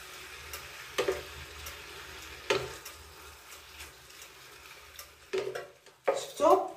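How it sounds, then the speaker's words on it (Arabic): Chicken breast and mushrooms cook in a pan with spices, garlic, onion and butter, giving a quiet steady sizzle broken by a few sharp clatters of a utensil against the pan, louder toward the end. "شفتو من بعد ما هذاك الصدر بدا كيدخلو الطياب، كنزيد هذاك الشامبينيون وكنبدا ندير في العطريه ديالي"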